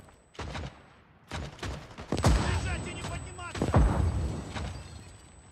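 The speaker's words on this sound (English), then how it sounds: "Shit, grenade, move!" Game explosions and gunfire in the cold war tactical shooter '83, several loud booming bursts with heavy low rumble spread across the stretch, and a player talks between them.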